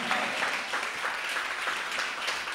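A church congregation applauding and cheering, steady dense clapping with scattered shouts that carries on evenly from start to finish.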